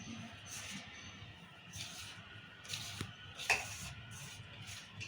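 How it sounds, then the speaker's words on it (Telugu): Sliced okra is mixed by hand into a spiced flour batter for pakoda, soft squishing and stirring with a few light clinks from a bowl, faint and close, beside brief speech. "అంతా ఇవి పిండి పట్టేటట్టు కలుపుకోవాలి"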